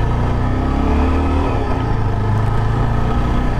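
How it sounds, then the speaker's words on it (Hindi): A Yezdi Adventure motorcycle accelerating in second gear on a test ride, its engine loud and close with a steady rising drone, no talking over it. "इनिशियली पिकअप बहुत अच्छा है बाइक का, मतलब दूसरे गियर में हूँ मैं"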